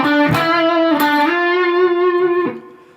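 Distorted electric guitar plays the solo line from a Devil May Cry 5 song, sustained effects-heavy notes with a few picked changes, loud and close, fading at the end.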